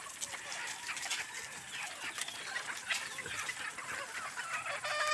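Several young stag roosters cluck and crow at a steady, moderate distance, with overlapping calls forming a busy farmyard chorus.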